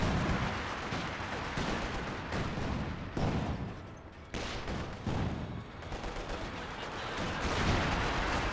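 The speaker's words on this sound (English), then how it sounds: "That's got Katyusha Barrage all the way back here." Katyusha rocket barrage in the strategy game Company of Heroes 2, a loud dense roll of rapid blasts and crackling impacts, briefly dipping midway before surging again, with no voices over it.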